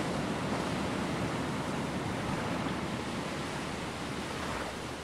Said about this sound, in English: Oh wow, the waves are big.